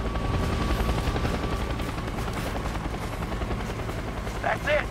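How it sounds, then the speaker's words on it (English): Helicopter arriving in the Tomb Raider video game, a loud continuous rotor drone with dense low rumble held throughout, with brief sharp bursts near the end that may be gunfire. "Chopper is here, good."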